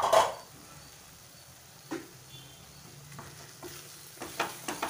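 Masala paste for an egg curry fries in oil in a pan with a faint, steady sizzle, broken by a few soft scrapes and knocks from stirring.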